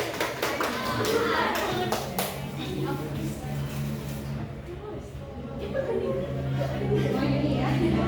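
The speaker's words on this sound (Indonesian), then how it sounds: "tepuk tangan." A school audience claps together in a room during a tuberculosis health education talk, with children's voices and chatter mixed in throughout.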